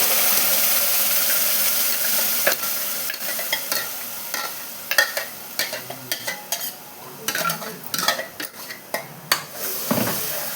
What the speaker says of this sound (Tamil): ஆனியன் இப்போ பாருங்க, ஆனியன் நல்லா ப்ரௌனாக வதங்கிருச்சு